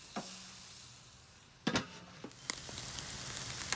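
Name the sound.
chicken sizzling on a grill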